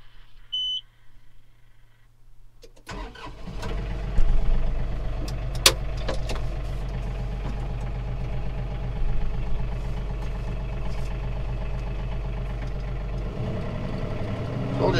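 A John Deere 3033R compact tractor engine starts and settles into a steady, low, close drone heard from the cab. A brief beep sounds just before the start, with no talk.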